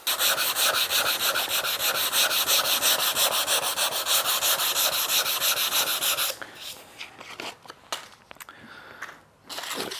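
Light hand sanding of wafer-thin 0.3 mm wood veneer with 240 grit paper, working with the grain: a steady, rapid rhythmic rasping for several seconds, then it stops and a few soft scuffs and handling noises follow.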